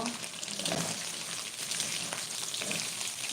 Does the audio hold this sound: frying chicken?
yes